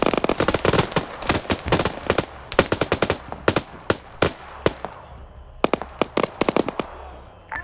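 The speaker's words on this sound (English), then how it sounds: "We're taking rocket fire and we're running out of the building." Rapid, loud explosions and gunfire crackle in a military video game set in a Khorramshahr operation, with dense bursts of sharp bangs, a short lull, then more close blasts.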